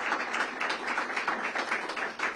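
Audience at a city youth summer employment program launch applauding Office of Youth Programs staff, a steady, moderately distant patter of many hands clapping without a break.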